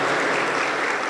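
A church congregation clapping hard in praise during a Spanish-language service, a dense, steady roar of many hands filling the room with no gaps.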